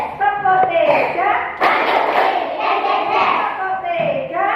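An Indonesian first-grade class performs a teacher-led rhythmic clapping game. A loud cluster of group claps breaks out amid energetic, near children's chanting, with the voices continuing throughout.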